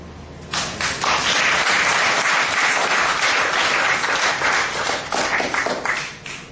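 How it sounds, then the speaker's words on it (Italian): A theatre audience at a spring book event applauds, with dense, sustained clapping that swells and holds loudly for several seconds before thinning slightly at the end. "grazie degli applausi"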